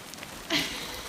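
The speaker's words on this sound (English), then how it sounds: "look, it's really raining" Heavy storm rain falls steadily on and drips inside an old leaking building in Tennessee, a constant hiss of close rainfall with one brief louder splash, no voices.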